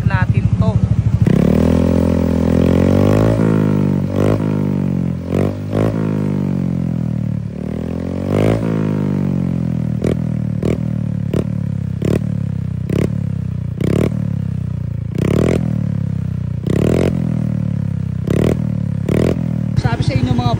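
A Honda Beat V3 scooter fitted with an aftermarket cabin pipe with a big tip runs near and loud, idling with a steady putter broken by short blips and rattles, and a voice talking over it.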